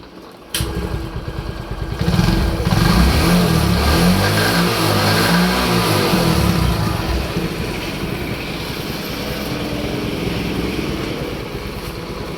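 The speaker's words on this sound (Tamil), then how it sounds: "இப்போ இந்த வண்டியை வந்து நம்ம வந்து ஸ்டார்ட் பண்ணி பார்ப்போம்" A small TVS XL 100 moped engine sputters to life after a click, then revs up and settles into a steady, loud idle nearby.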